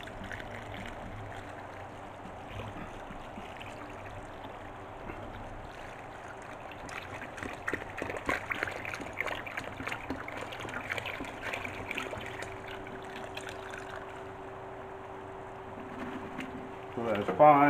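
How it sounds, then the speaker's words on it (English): Water pours and trickles steadily into a 50-litre bucket of lime, a continuous watery wash with a brief splashy burst near the end. "And all you do is just add the water."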